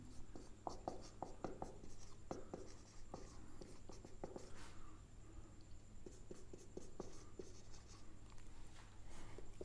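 A pen or marker scratches out handwritten symbols for an arithmetic formula, with short quiet strokes in uneven bursts, close and faint against a low steady hum.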